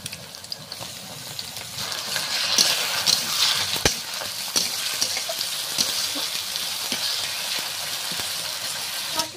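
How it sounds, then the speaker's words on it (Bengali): Ginger and garlic paste frying in a pan of oil while cooking Australian duck curry: a continuous close sizzle with occasional stirring clinks and scrapes, steady and fairly loud, with no talk. "এবার আদা রসুনটা দিয়ে দিচ্ছি।"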